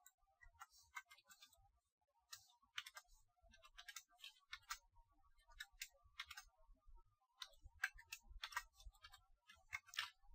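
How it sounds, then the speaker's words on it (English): Keystrokes on a computer keyboard as commands are entered in Kali Linux: faint, quick clicky taps in irregular bursts with brief pauses, close by and quiet, with no speech. "So over here I'll just type some random stuff."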